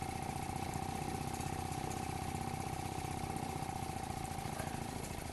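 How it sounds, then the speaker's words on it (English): A small model steam engine drives a little generator, producing a steady, rapid mechanical chuffing and whirring drone with an even hum running throughout. "Takes a fair bit to drive this little generator."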